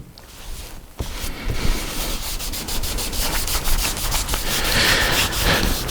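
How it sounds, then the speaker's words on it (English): Wooden bench surface buffed with wax using a Festool sander, a close, continuous abrasive whirring rub that starts after a brief quieter moment and holds steady and loud. "your sander, or however you're going to buff the wax, will bog down if you put too much"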